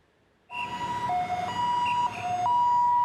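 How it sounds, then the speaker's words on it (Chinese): An ambulance siren starts suddenly after a brief quiet moment and wails loud and close, its two-tone pitch stepping up and down without a break. "救护车要去救人"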